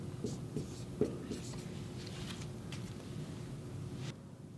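A pen or pencil writes a number on paper, producing soft scratchy strokes in short bursts, close and quiet, with low voices in the background.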